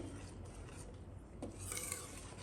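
A spoon rasps and scrapes steadily through cooked onion puree in a pan as extra oil is mixed in for dum aloo, a close, continuous stirring texture without talk.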